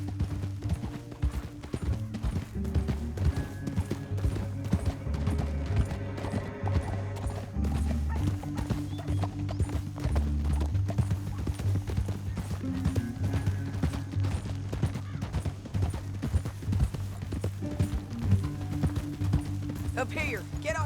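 Horses galloping in the video game Red Dead Redemption 2, a continuous drumming of hooves carried along under a low droning music score for the full length, with occasional snorts and whinnies and no voices.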